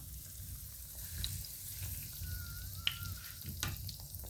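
Food sizzles in a pan during stir-frying of Thai basil stir-fry, a soft steady fry heard at low volume with faint clinks from utensils, and no talking.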